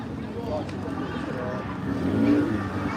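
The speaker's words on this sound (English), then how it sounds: "This is a Mazda RX-5 rotary." Mazda RX-5 rotary car idling and revving on the start line at the Geelong Revival motoring festival, a low steady engine rumble rising slightly, heard under someone talking.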